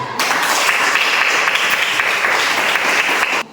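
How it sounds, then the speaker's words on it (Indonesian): A group claps steadily during a school lesson, a dense burst of applause that starts abruptly, holds loud and close for about three seconds, then stops sharply with no speech over it. "Kita berikan lagi aplaus"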